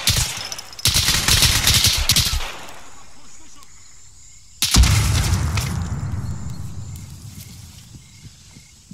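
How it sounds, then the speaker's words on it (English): A frag grenade goes off in the military game Arma 3: a sudden heavy blast with a long rumbling decay follows earlier bursts of gunfire, with faint voices in the background. "I'm going to drop a frag and put a frag in there."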